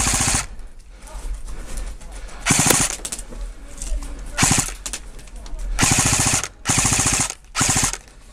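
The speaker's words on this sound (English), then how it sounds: "Petit, we need you to shoot that top." Airsoft guns firing in a mixed skirmish of soldiers and airsofters: sharp rapid-fire bursts and single shots, close and loud, in uneven volleys with voices calling out between them.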